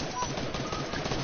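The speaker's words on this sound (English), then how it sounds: "We are clapping them like gun claps." Kid clapper toys snapped loudly and rapidly in a dense, continuous rattling burst, like rapid gunfire, close to the listener with no pauses.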